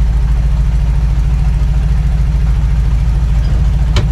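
A V8 engine idles inside a van, heard from within the cabin: a steady, close, low rumble with an even throb and no revving.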